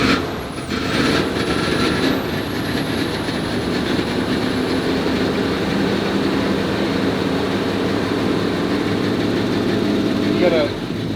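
A Super Cobra Jet engine in a 1986 Ford F250 runs steadily and loudly for the whole stretch, a dense continuous rumble with a faint high whine early on.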